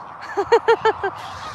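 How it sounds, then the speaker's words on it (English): Ducks on a homestead give a quick run of five rhythmic quacks, close and fairly clear, with no talking over them. "And then here's ducks. Some ducks. More ducks."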